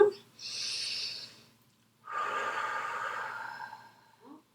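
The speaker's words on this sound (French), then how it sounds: "Prenez une grande respiration." Two long, airy breaths close by: a slow inhale through the nose, a pause, then a long drawn-out exhale trailing off into quiet.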